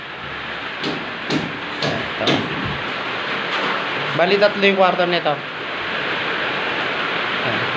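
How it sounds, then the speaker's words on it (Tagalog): Heavy rain falls outside the windows of a house's second floor, a constant broadband hiss that fills the background while someone talks over it. "Malakas yung ulan."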